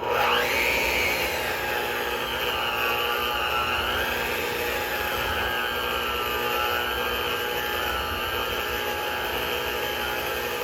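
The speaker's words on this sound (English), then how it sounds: "today I just brought my hand mixer" An electric hand mixer whirs steadily through half a pound of margarine, a continuous close motor drone with a slight pitch dip as the beaters meet the fat.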